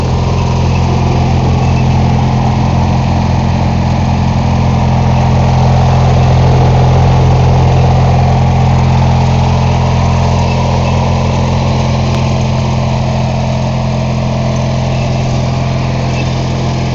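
An MTD lawn mower's small engine runs steadily after a cold start following a winter of sitting, a loud, continuous close-up drone with a constant idle and no speech.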